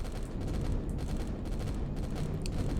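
A ship explodes in the space survival game Empyrion Galactic Survival (Reforged Eden), a dense, rumbling barrage of rapid blasts and crackling detonations that stays loud and continuous, with no one speaking over it.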